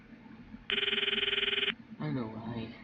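A phone rings in the Steins;Gate visual novel, a steady electronic ringtone of rapid repeated pulses lasting about a second, loud and clear, followed by a voice speaking.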